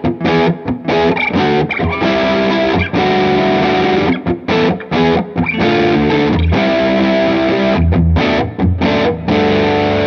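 An electric guitar plays a rhythm part through a pedalboard, giving a loud, driven tone of strummed chords with short choppy breaks between them and no voices.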